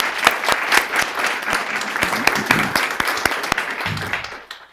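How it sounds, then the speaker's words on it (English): A round of applause at a school board of education meeting, a room of people clapping steadily with sharp individual claps standing out, tapering off near the end. "So let's give everybody a round of applause"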